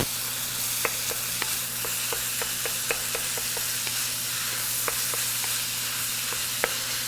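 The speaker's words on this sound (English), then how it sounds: "So I'm going to keep stirring this." Cabbage and seasoned meat sizzle in a pan for egg roll filling, a steady close hiss broken by sharp scrapes and clicks from the stirring utensil, with no talking.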